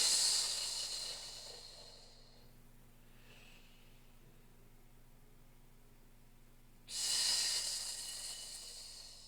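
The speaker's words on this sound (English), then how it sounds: "And then exhale." Forceful breaths during a Pilates breathing exercise come as loud airy hisses, one long exhale at the start and another after a quiet pause, close to the microphone.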